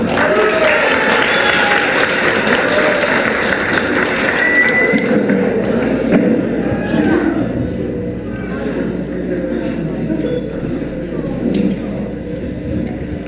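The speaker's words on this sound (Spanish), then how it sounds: "Un fuerte aplauso para Juan." Applause from the audience welcoming a singer to the stage at a La Unión talent contest, a loud sustained roar of clapping mixed with voices and announcer talk that gradually thins out.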